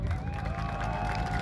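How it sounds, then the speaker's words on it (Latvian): Brief applause and crowd cheering for the orange team at a Latvian outdoor event in Krāslava, a short burst of clapping and voices that cuts off abruptly. "Aplausi oranžām apelsīnam!"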